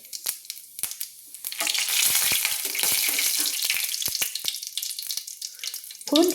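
Whole dried red chilli, cumin seeds and a bay leaf hitting hot oil for a tempering, a sudden burst of sharp sizzling that swells and then crackles down, with clicks and a short sputter near the end.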